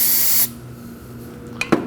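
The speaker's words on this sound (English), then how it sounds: "I'm gonna spray some on the rag." A short aerosol spray hiss of brake parts cleaner onto a rag at the start, cutting off abruptly, followed by quiet and a couple of soft handling clicks near the end.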